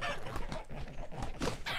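Several chickens in the game Vintage Story cluck and murmur close by in a busy, overlapping chatter, with no talking.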